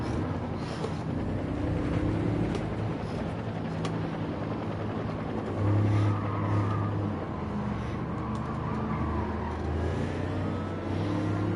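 Engine of a Toyota Tundra TRD Pro pickup in Gran Turismo 7, droning steadily and fairly loud throughout, with a brief swell of revving midway and no talking over it.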